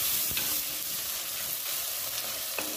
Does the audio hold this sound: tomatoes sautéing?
yes